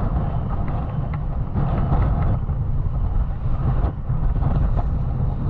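Strong wind on a beach roars steadily and buffets the microphone, a loud low rumble that surges and dips slightly over several seconds with no clear talk.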